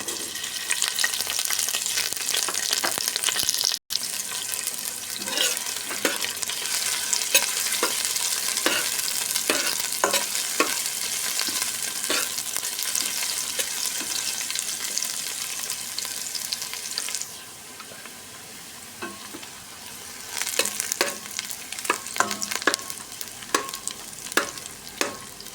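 Onions hitting a pan and frying for sauteed cabbage with leftover chicken adobo, a loud continuous sizzle with scattered crackles and stirring clicks, dropping quieter for a few seconds before flaring again, close and with no talk.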